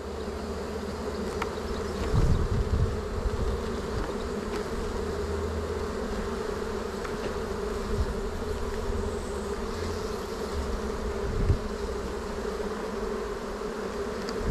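Honey bees buzz steadily around a hive being searched for an unmarked queen, a dense continuous drone close by with a few louder swells, no talking.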